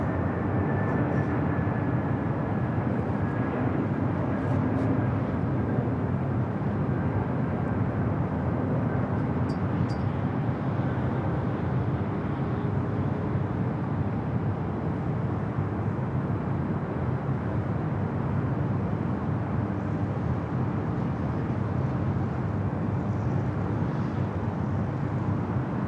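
Airliner arriving at Los Angeles airport on the north side, a long, steady roar of jet noise holding level for the whole stretch, moderately loud and distant, with a faint descending whine.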